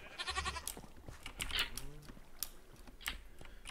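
Goats bleating in a Minecraft zoo modpack game, with several short wavering bleats mixed among clicky keyboard-like tapping at moderate loudness.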